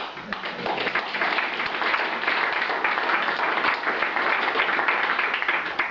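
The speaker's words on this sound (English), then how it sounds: "give yourselves a big round of applause" An audience gives a speaker a big round of applause: dense, even clapping from many hands that holds steady and close throughout.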